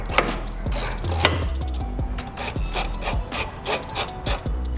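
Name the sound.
16 mm socket removing a fastener on a BMW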